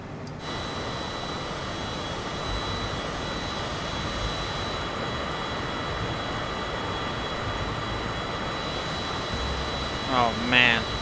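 Steady aircraft engine drone at about 68% throttle over the Grand Canyon, a continuous even roar holding through the whole stretch, with a brief voice-like sound near the end.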